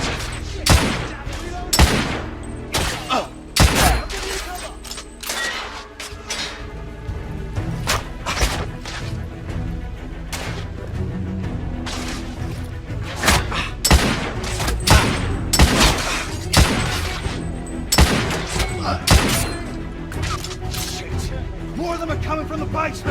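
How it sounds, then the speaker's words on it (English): Heavy gunfire in The Order 1886, a dense run of loud, sharp shots and bursts firing steadily in clusters throughout, with thuds and crashes mixed in and voices heard now and then over the shooting. "I'm under heavy fire!"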